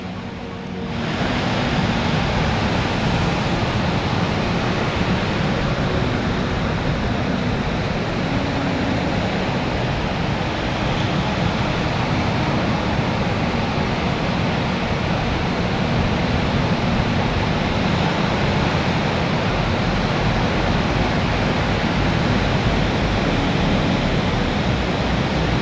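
Surf and waves washing in steadily at Venice Beach in Los Angeles, California at sunset, a dense continuous roar that fills the whole clip with no talking.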